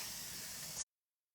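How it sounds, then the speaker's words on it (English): Cleaner sprays onto a screen-printing screen in one steady, close hiss lasting under a second, which stops abruptly into silence. "give it another spray, clean out the back side"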